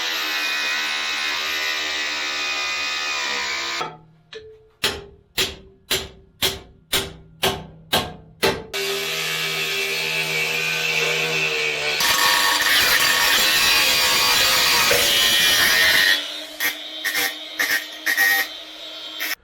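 Sway bar being cut off a Jeep TJ with a hacksaw: a burst of steady grinding, then about eight evenly spaced rasping saw strokes, then more continuous loud cutting and a few quick strokes at the end, close up.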